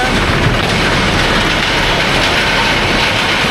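A train rumbling across the India-built bridge in Sri Lanka, a loud continuous roar of wheels and engine with heavy low-end drone, steady and close, no voices.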